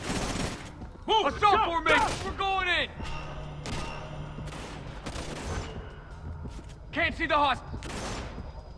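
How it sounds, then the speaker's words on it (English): Gunfire in the video game Splinter Cell: Conviction: loud bursts of shots crack out repeatedly while soldiers shout orders over them. "I'm hearing gunfire."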